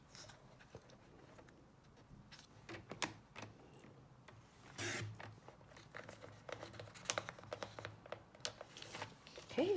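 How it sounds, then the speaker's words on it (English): Card stock being trimmed for a slimline thank-you card, with soft crinkling and repeated sharp clicks and slices of a paper trimmer blade, close and fairly quiet with no talk. "And then I'm going to cut at 3 inches."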